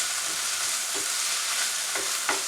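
Six cloves of minced garlic sizzle in a pan during cooking for a pierogi casserole, a steady bright frying hiss with a few soft stirring scrapes.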